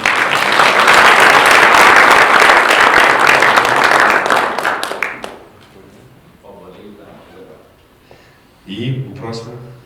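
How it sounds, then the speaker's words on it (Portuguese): A round of applause from an audience at a business talk, with dense loud clapping for about five seconds that then cuts off, leaving quiet room sound and a few voices speaking near the end. "Salva de palmas aí."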